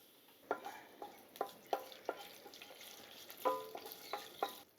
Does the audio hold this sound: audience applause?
no